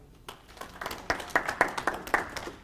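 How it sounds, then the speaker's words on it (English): A small audience at an aerial applicators safety meeting gives a presenter a round of applause. Sparse individual claps build into a brief, uneven patter that stays fairly quiet, with no one speaking. "So let's give Jeremiah a round of applause."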